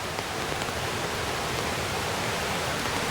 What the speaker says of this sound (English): Man, look at that water running.